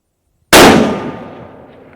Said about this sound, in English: I'm going to bring this up and shoot where I should on an E-type.